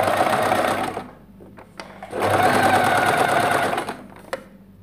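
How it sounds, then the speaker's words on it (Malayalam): A household sewing machine stitching cord piping, its motor whirring in two loud sustained runs broken by a short pause with a few small clicks, close up and with no talking. "ഈ സൂചി ഇങ്ങോട്ട് ചേർത്ത് വെച്ചിട്ട് തയ്ച്ചു കൊടുക്കുക"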